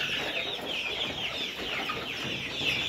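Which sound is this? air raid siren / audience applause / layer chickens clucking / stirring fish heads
layer chickens clucking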